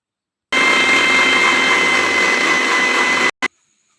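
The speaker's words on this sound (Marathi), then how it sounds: "आता हे मिक्सरवर फिरवून ज्यूस करणार." A mixer grinder blends watermelon with sugar and a pinch of salt into juice, a loud close whirring burst of about three seconds that cuts off abruptly, followed by a short second pulse.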